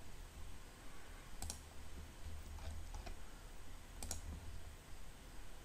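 Faint, sparse computer mouse clicks during design work in Fusion 360, a few isolated sharp clicks over a quiet hum with no talking.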